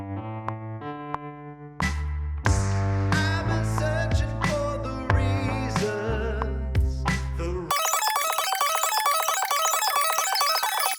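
A Wurlitzer-style electric piano plugin from Spitfire Labs plays a chordal melody with a warm, slightly gritty tone, then the sound shifts to a busier, brighter layered pattern in the final seconds.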